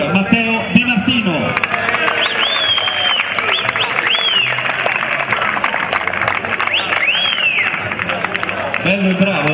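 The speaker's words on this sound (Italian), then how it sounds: "Un applauso per Matteo Di Martino." Crowd applause with steady clapping throughout, mixed with a loud voice over a public address and some cheering in the background.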